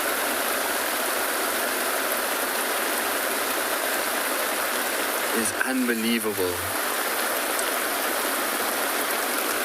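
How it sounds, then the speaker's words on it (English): Heavy rain pours down in the South African bush during a morning safari drive, a dense steady hiss filling the whole clip, with a brief burst of speech in the middle. "It's a serious downpour that's coming through now"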